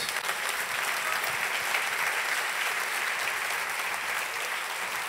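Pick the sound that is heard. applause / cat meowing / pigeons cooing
applause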